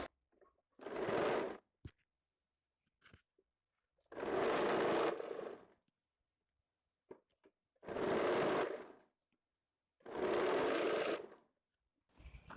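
A sewing machine stitches a high-neck blouse in four separate bursts of roughly a second each, with quiet gaps and faint handling clicks between runs.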